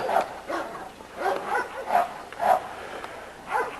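A small dog in a yard barks in a quick series of six or so sharp yips, about every half second, at moderate distance.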